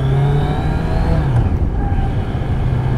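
A 2020 Kawasaki Z900 motorcycle engine, recorded with an external microphone, revs loud and close, its pitch sliding down then climbing again in one sustained roar with no speech.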